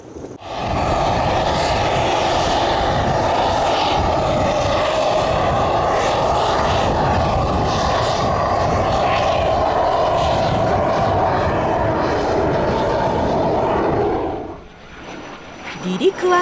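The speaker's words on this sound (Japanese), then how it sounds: "離陸は成功。 順調に高度を上げていきます。" Experimental aircraft from a space-travel venture takes off on its first remotely piloted flight test, a loud steady engine roar holding close for about fourteen seconds before fading quickly as it climbs away.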